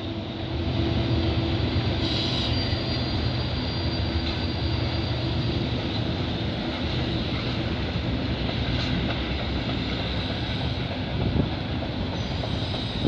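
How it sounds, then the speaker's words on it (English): A CP/CN freight train rolls past in Milton, Ontario with a continuous heavy rumble, rail clatter and occasional wheel squeal, close and loud, with no voices. "I think this will be my last train to catch in this video"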